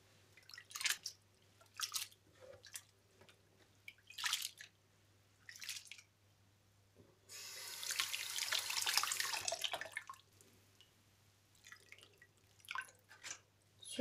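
Washed nettles being drained, with scattered drips and trickles of water and a longer splashing pour midway, quiet and close, with a faint steady hum underneath and no voices.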